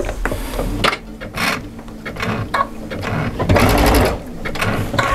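A sewing machine zigzag-stitches slowly over a cord along a seam edge, a close, steady mechanical whirring in short bursts that start and stop.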